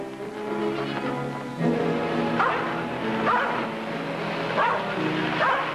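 A small dog gives repeated yipping barks and whimpers in an old radio drama scene, spaced every second or so at moderate distance, with voices murmuring alongside.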